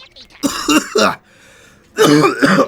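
Two short, close bursts of coughing and throat clearing from one person, separated by a brief quiet pause.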